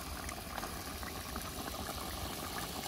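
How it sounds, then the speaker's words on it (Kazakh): Water boils in a pot where strudel dough steams over a layer of potatoes, a steady, dense bubbling hiss that is close and unbroken throughout. "Суы қазір қайнай азаяды."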